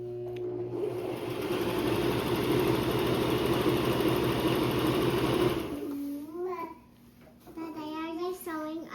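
A sewing machine stitching curtain fabric runs steadily and loudly for several seconds, then stops; afterward a child and an adult talk in a home setting.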